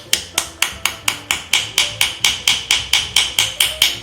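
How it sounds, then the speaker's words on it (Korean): A small hammer strikes a coiled wire ring being shaped from a jewelry-making kit, sixteen sharp, evenly spaced metallic taps, close and crisp, with no talking. "반지를 밑으로 꾹꾹 눌러서 이제 망치로 쳐줍니다."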